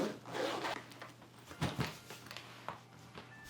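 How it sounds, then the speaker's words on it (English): A clear plastic zip bag holding liquid toiletry containers being zipped and handled, with soft rustling and a few short zipping bursts close by, no talking. "I put all of my liquid containers into clear zip bags"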